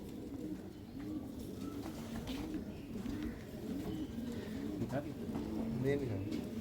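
High-flying pigeons cooing in soft, repeated rolling calls over a low background murmur, with people talking faintly throughout.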